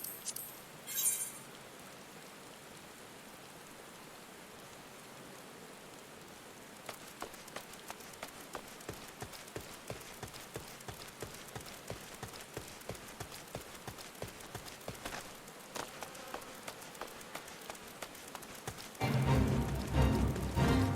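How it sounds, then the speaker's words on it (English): Steady rain patters on surfaces in a Final Fantasy game, joined midway by rhythmic hoof clip-clops of a mount on the move, with the downpour swelling louder near the end. "It gives us a chance to enjoy the rain and the scenery"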